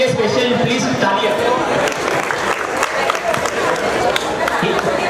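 Applause rings out from an audience at a housing society's 75th Independence Day celebration, a dense, steady wash of clapping with scattered voices and chatter mixed in throughout.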